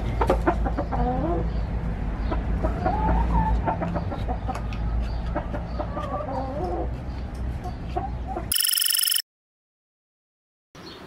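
Chickens clucking inside a coop, a dense overlapping chorus of clucks and short squawks close by, steady and busy, ending abruptly in a burst of noise and then silence.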